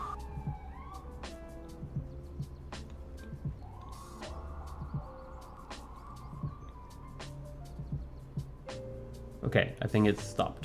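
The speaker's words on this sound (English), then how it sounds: "of course there's a police car outside the window" A police car siren wails faintly in the distance outside a window with rising and falling tones, while a person talks nearby over scattered clicks and low background noise.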